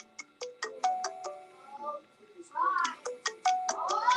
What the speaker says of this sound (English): My watch is ringing too, y'all.